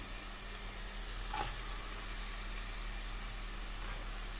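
Chopped red bell pepper hits a pan of fried onions with a steady, quiet sizzle and a brief stir around the middle, a soft constant frying hiss with no talking.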